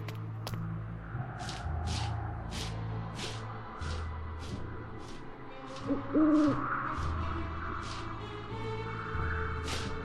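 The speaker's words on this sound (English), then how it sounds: "Follow that owl! He stole the caretaker's circlet!" An owl hoots in the adventure game Keepsake, its calls repeating over a background music score with sustained low notes, moderately loud and with no talking.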